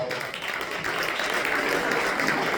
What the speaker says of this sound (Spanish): Den un aplauso de vuelta a Cristo.